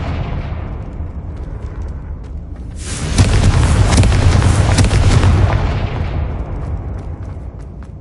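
A Confringo fire spell explodes in the Hogwarts Legacy video game, a loud roaring blast that erupts about three seconds in, holds for a few seconds, then slowly fades over a low rumbling background.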